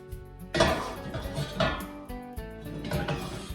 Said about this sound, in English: I'm pulling it out of the oven